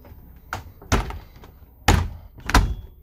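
Inside a 1980s Viaggio G4 coach, a cabinet or compartment door is shut with four dull, close thunks spaced unevenly over a few seconds, with no one talking.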